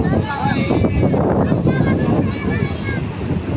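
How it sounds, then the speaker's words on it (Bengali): Sea at night, with a steady broad rush of wind and surf close to the microphone, roaring continuously with slight swells in loudness. "দেখো রাত্রের সমুদ্র"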